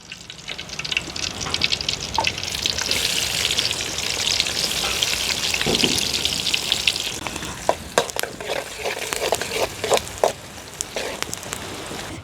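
Chopped onions and green chilies sizzle steadily in hot oil in a pan while cooking gongura chicken, with scattered stirring scrapes and a few sharper pops through the second half.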